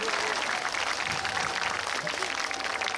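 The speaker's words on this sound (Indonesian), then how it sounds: "Boleh tepuk tangan sekali lagi untuk kita pada malam hari ini." Audience applause at an evening amphitheater show, a dense, steady wash of clapping from a large crowd that holds at an even level for the full three seconds.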